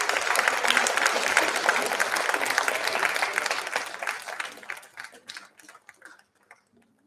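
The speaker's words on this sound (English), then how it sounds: "Big round of applause, please." An audience at a formal ceremony for presenting tokens of gratitude breaks into a dense round of applause. The clapping stays steady and fairly close for several seconds, then thins out and fades to a few scattered claps.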